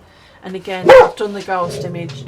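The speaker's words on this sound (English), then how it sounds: "Excuse my dog." A dog at a craft table gives a short, close bark over a person who keeps talking. Its yip-like bark breaks briefly through the steady speech.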